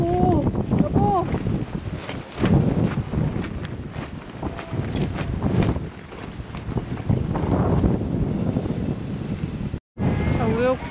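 Strong wind gusting around a campsite with a pop-up trailer, heavy buffeting rumble that rises and falls continuously under people talking, with one brief dropout near the end.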